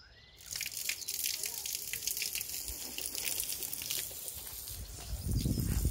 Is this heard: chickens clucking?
no